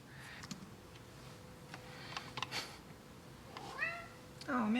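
A pet cat meows twice near the end, rising and falling cries after a stretch of quiet room noise with faint ticks, indoors at the close of a live electronics stream.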